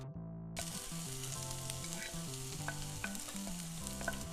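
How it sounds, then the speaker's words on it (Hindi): Steady, crackling sizzle of mustard seeds and cumin frying in hot oil, with soft popping, over background music. "ऑयल जैसे ही गर्म होता है मैं इसमें हाफ टीस्पून राई एंड जीरा ऐड कर दूँगी"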